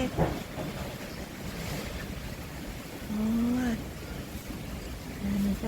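Strong wind blows outdoors and roars steadily across the microphone with gusty buffeting. Short voiced tones rise briefly over the noise partway through.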